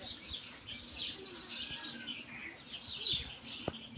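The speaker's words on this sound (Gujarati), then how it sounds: "બાજ આવી હતું એટલે કબૂતર ઉડે છે" A flock of pigeons flaps up and away, steady soft wingbeats mixed with faint chirps, heard at a moderate distance amid outdoor ambience.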